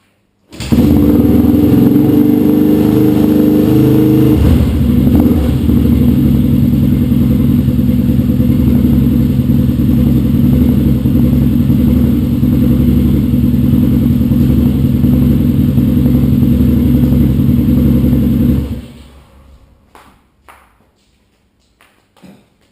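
An old motorbike that had sat unused in a shed runs loud and close on choke, a steady rough engine drone with slight revving that holds for nearly twenty seconds before cutting off, followed by a few faint clanks.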